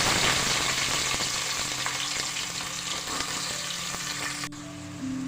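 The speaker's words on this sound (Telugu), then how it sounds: "ఇప్పుడు సన్నగా తరిగి పెట్టుకున్న ఉల్లిపాయ ముక్కలు వేసేద్దామండి" Finely chopped onions frying in hot oil with curry leaves for a tomato egg curry, a continuous loud sizzle with occasional stirring scrapes, cutting off abruptly near the end.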